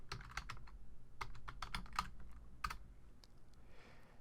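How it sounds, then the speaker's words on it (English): Typing on a computer keyboard, a quick irregular run of light close clicks with short pauses, fading near the end, quiet and alone. "just click anywhere up here and then type in Ghost Town"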